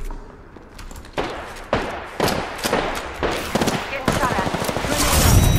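Gunfire in Apex Legends rattles in a rapid run of close, punchy shots, several blasts in quick succession building into a denser barrage toward the end.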